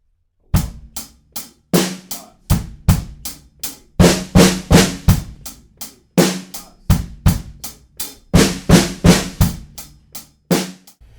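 Drum kit playing a 6/8 groove from a song, with kick drum flams on beats four through six in the second bar; loud, crisp repeated hits in a rolling triplet rhythm, heard alone without talk.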